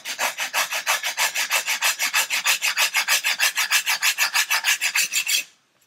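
A coarse file rasps along a wooden model ship hull, running a bevel down its length in steady back-and-forth strokes, about thirty even, loud rhythmic passes close up before stopping abruptly.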